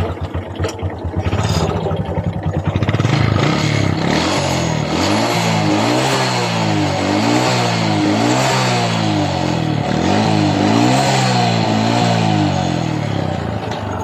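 A Honda XRM 125 motorcycle engine runs close by, loud and steady, with repeated rhythmic revs rising and falling throughout and no talking.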